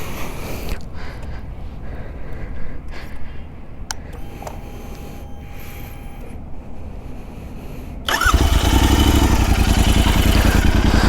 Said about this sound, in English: So let's hear the exhaust,